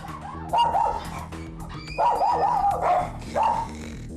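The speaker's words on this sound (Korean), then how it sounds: "근데 니네 또 왜 짖니?" Several dogs in a family home bark, yip and whimper in high excited bursts, three loud outbreaks close to the listener with short pauses between them.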